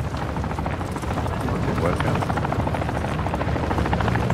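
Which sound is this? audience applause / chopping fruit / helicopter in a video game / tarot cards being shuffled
helicopter in a video game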